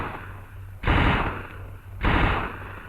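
A Tommy gun firing in an old US Marine Corps training film: two loud, close, harsh bursts of noisy gunfire, each about a second long, over a low background hum.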